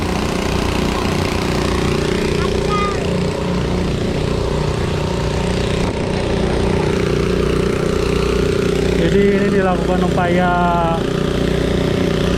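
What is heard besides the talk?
two water pump engines draining a sunken river boat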